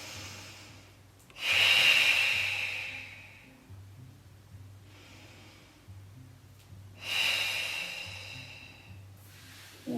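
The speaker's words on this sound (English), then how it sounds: "Take some deep breaths." Slow, deep breaths during a gentle relaxation exercise: two long, close inhale-exhale cycles with airy, hissing breath over a quiet low hum.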